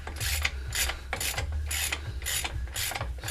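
A hand ratchet spins the exposed wheel center nut off a 2005 GM car with a 4T65-E transmission, giving six or seven quick, close, rhythmic bursts of ratcheting clicks with no talking.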